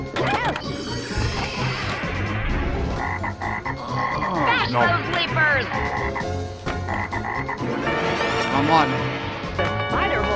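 Cartoonish frog croaks burst repeatedly from a Pinball Arcade video game table amid dense, busy table sounds, chiming effects and a voice talking throughout.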